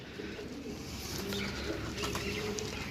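Pigeons kept for sale coo softly and steadily in the background, their low repeated calls blending with a constant ambient hiss and no speech.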